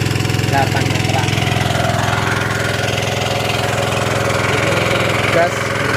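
Small diesel engine driving a water pump during a well test, a loud steady mechanical drone with a constant throb throughout, close and unbroken.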